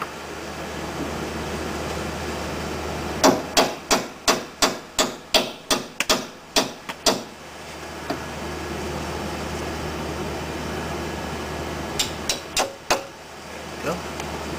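A ball joint being tapped into place on a third-generation Ford Escort: a quick run of about ten sharp metallic hammer taps, then a few more later on, close and distinct over a quiet workshop background.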